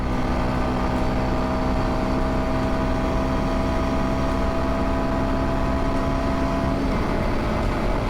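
A 2022 Kawasaki KLX230S motorcycle engine at wide open throttle drones loudly and steadily at high revs, buried in heavy wind rush throughout.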